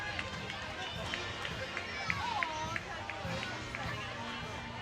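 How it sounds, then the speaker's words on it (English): Background chatter from the crowd at a 4th of July parade in Edina, a steady murmur of many voices with occasional whistles and louder calls rising above it. "you hear all the chatter in the background"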